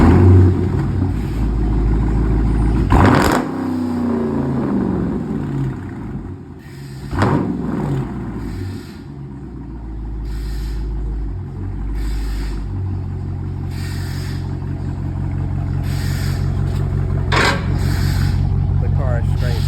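A straight-piped Dodge Charger R/T with one resonator removed and a 5-inch tip rumbles loudly and steadily nearby, with sharp throttle blips around 3, 7 and 17 seconds rising above the drone.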